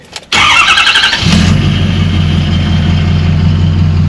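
A V8 engine cranks briefly after its fuel injector line was opened and refilled, then catches and settles into a steady, loud idle running on all eight cylinders, heard up close with no talk.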